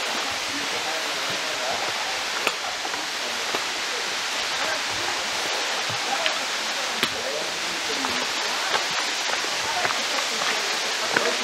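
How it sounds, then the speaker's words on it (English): Steady rushing water from a river pool below Wentworth Falls, a broad continuous hiss carrying up from a distance, with faint footsteps and small clicks now and then. "How come I can hear the water pool down there?"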